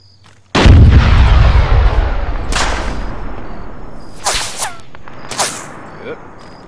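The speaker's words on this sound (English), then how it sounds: "I heard a sniper shot from somewhere" Long-range sniper fire in the Arma 3 video game, set in a jungle on Tanoa, opens with one loud, heavy boom that rolls on with a long echo, followed by a few sharper distant cracks as voices talk over it.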